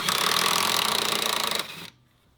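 A power tool rattles loudly on front suspension bolts of a 1997 Camaro, a dense fast hammering burst for about two seconds that cuts off abruptly.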